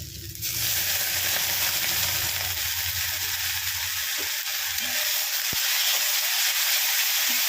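Masala for Bengali egg curry (dim kosha) sizzles steadily in a pan as it is sautéed, a continuous close, bright frying hiss with a few soft stirring knocks and no voices.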